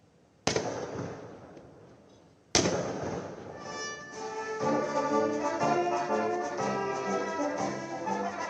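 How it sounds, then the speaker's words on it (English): A ceremonial 21-gun salute for Indian Prime Minister Modi in Malé, Maldives: two loud, sharp reports a couple of seconds apart, each ringing out with a long decay, then brass band music playing on. "PM Modi was also accorded a 21-gun salute"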